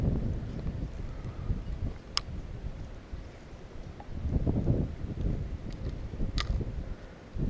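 Steady outdoor wind buffeting a microphone on a fishing day near an RV, a low continuous rumble with gusts swelling and fading and a few faint ticks, no talk.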